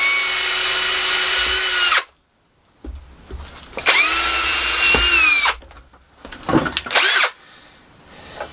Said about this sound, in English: So we'll just drill the holes first, that way at least they're registered exactly right.